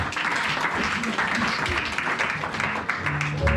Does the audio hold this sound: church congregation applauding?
yes